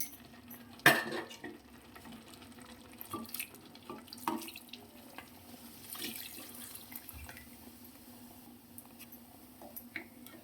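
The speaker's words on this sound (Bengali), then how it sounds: "এবার আমি জল গরম করে রেখেছি, সেটা আমি দিয়ে দেব" Hot water poured from a container into a pot of browned country chicken curry, a close, steady splashing pour with a few clinks of metal cookware.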